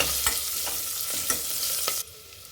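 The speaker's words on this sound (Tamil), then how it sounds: "மஞ்சத்தூள், வெங்காயம் நல்லா வதங்கட்டுங்க." Onions and turmeric sautéing in a pan, a close, even sizzle broken by a few rhythmic stirring scrapes, dropping abruptly quieter near the end.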